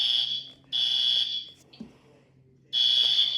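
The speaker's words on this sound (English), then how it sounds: "We're just testing the fire alarm." A Lego-built fire alarm system sounding during a test drill: loud, piercing electronic buzzing tones in three bursts separated by short gaps, close by, with a low background hum and no speech.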